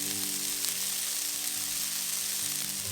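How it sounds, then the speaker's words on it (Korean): Broccoli, red pepper and turmeric rice stir-frying in a pan, a steady even sizzle with no talk, close and moderately loud throughout. "브로콜리와 홍피망 넣고 1, 2분 정도 볶아주세요"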